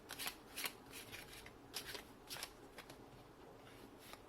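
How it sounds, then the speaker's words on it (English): Tarot cards are shuffled repeatedly up close, quick papery riffles and flicks coming in uneven bursts with no talking. "I feel like I need to shuffle a bit again."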